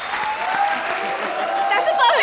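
Studio audience applause on a comedy show, a steady dense wash of clapping sustained throughout and swelling slightly near the end, with a voice mixed in.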